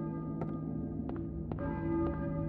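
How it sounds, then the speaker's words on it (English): A church bell tolls in the Silent Hill video game, several clear resonant strikes at irregular intervals over a low ambient hum, with no talking. "I hear a church bell. Maybe? Who's running the bell?"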